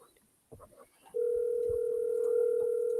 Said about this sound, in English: All right, I'm calling. Let's see if he answers.